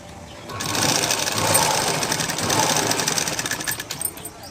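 A sewing machine stitches a straight seam on a blouse neck, a close, rapid, continuous mechanical whir that runs nearly the whole time before slowing near the end.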